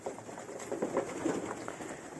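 Pigeons cooing softly in a loft, a series of low murmuring coos repeating irregularly over faint background hiss.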